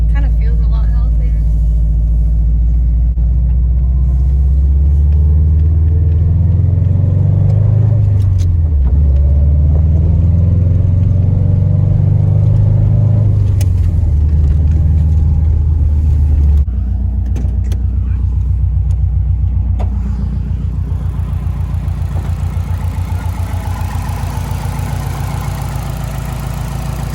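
Subaru car with new ID1050X fuel injectors on a test drive, a loud continuous engine rumble and drone that rises and falls as it accelerates, heard from inside the cabin.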